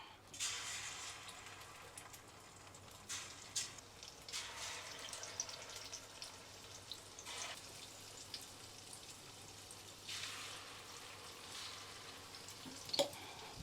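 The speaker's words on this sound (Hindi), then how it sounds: "ये भी तेल गरम हो गया है, ये देखो।" Oil heating in a pan while frying traditional sweets for the Teej festival, giving a steady soft sizzle with bursts of hissing crackle; quiet and fairly close, with no talk.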